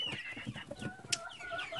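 Farm chickens clucking nearby in a quick, busy flurry of short calls, one sharper squawk breaking through, fairly faint and without talk.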